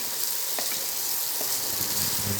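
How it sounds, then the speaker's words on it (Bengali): Spices sauté in a pan with a dense, close sizzle, broken by a few soft stirring clicks, alone and without talking. "মশলা কষানো হচ্ছে"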